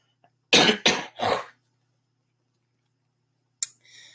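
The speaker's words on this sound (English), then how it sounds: "But first I need to cough." Three quick, harsh coughs close together, followed by silence and a brief faint rustle near the end.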